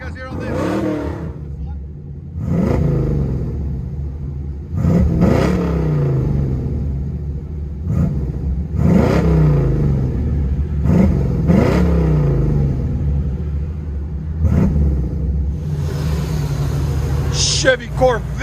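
A 1984 Chevy Corvette C4 with a 5.7L V8, true dual exhaust, high-flow cats and Flowmaster mufflers revs up repeatedly in several loud, rising bursts. A voice talks over it.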